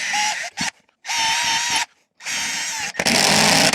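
A power drill bores holes in a wall to mount a TV bracket, running in three loud, close bursts of whirring with short pauses between them, followed by a harsher, grinding burst at the end.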